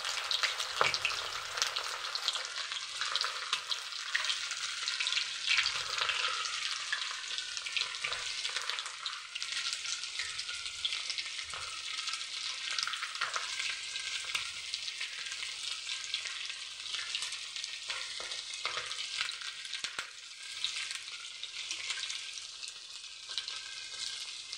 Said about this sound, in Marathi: हे बघा, अशा पद्धतीने आपण जसे भजी बनवतो तसेच हे पीस पण आपण तेलामध्ये टाकून द्यायचे